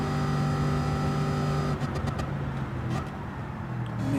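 The V8 engine of a 1969 Chevrolet Camaro Z28 in Gran Turismo 7 holds a steady loud drone while driving, then drops off briefly as if lifting or shifting before picking back up. No voices.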